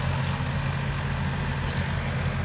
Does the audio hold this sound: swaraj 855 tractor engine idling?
yes